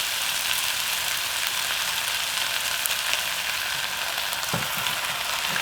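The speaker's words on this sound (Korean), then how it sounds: "볶아가면 고춧가루에서 고추기름이 나오겠지?" Chili powder stir-fries in hot oil in a pan, giving a loud, steady close sizzle throughout with a few faint stirring scrapes near the end.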